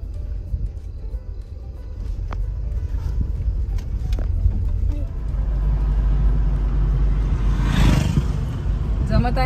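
A car driven steadily at about 50 on a road, with a continuous low engine and road rumble throughout and a brief rise in noise near the end; a voice speaks over it at times.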